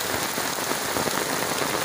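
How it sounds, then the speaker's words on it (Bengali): Heavy storm rain pours down in Tangail, a dense, loud, unbroken hiss of drops hammering surfaces all around, with no voices over it. "কি পরিমাণে তীব্র গতিতে বৃষ্টি হচ্ছে"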